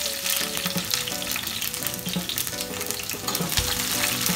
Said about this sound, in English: And I'm here frying up my ackee and saltfish.